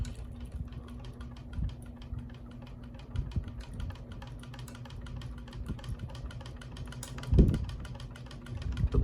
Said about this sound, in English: It's making the rattling